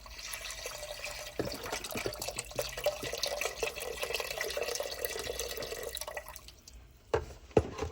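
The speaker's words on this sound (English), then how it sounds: "Now the rest of our beef broth. I'm gonna use this entire box." Beef broth from a carton pours into a pot of thickening stew, a steady close liquid splashing and trickling for several seconds, ending with a few clunks and drips.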